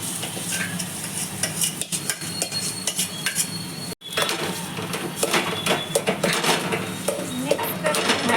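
Potato masala stirred in a pan, with a constant sizzle under repeated clinks and scrapes of a metal spoon against the pan, close and busy, with a short break midway and no speech.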